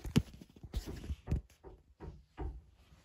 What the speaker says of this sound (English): Griffin, I need one more knock.